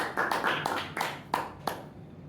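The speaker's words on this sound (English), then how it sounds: "Let's welcome with warm round of applause Toastmaster Anand sir." Brief applause welcoming a speaker at a Toastmasters meeting: a handful of sharp, separate claps in quick succession, close and fairly loud, with no talking.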